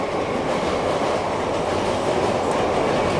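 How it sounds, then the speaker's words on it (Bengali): Train running over railway tracks at Bidhannagar station platform in Kolkata, a loud continuous rumble of wheels on rails with steady clatter, close and unbroken. "আর এখানে ট্র্যাক সাউন্ড শোনো, ট্র্যাক সাউন্ড।"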